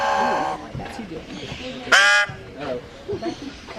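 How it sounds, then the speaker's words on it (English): A crow caws at a bird attraction in Pigeon Forge, Tennessee: a few short, harsh calls, one loud and close, mixed with people talking nearby. "Here's your crow, babe."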